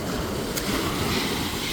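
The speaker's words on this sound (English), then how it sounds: "I hope the wind's not too bad." Wind and surf at Nokomis Beach on Casey Key give a brief, steady roar of broadband noise, with gusts buffeting the mic and no clear voice.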